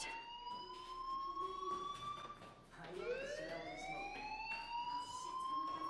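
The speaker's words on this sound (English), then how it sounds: "do you hear that fire alarm?" A fire alarm rings in the Life is Strange video game, a steady electronic wail with rising and falling tones that restarts midway, sounding loud and continuous throughout.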